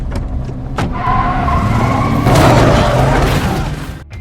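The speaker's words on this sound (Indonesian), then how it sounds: "Russell yang melihat Tom melibas kang parkir, ia pun menjadi semakin panik" A car in a film scene runs over a parking attendant: a loud, close engine roar builds and surges to a heavy rushing peak, then fades with no talking.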